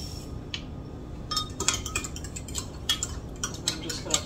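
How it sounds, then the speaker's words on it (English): Instant yeast being stirred into warm milk with melted butter, a spoon clinking and scraping against the bowl in a quick, close run of light taps and swishes. "I'm just gonna stir that up."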